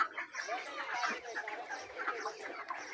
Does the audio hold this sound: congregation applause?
no